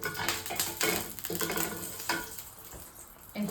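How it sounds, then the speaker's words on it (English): A knob of beef tallow melting in a hot pan, sizzling and spitting steadily with scrapes and stirs of a utensil against the pan, close and fairly loud. "I'm just putting a little knob of beef tallow in here."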